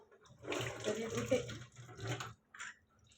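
Water sloshes and swishes in short bursts as lentils are rinsed by hand in a bowl, close up, with pauses between swirls.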